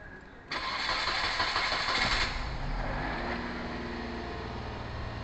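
A Perodua Kancil car engine cranks and catches at once, running loud and steady, then settles into a lower, even idle rumble.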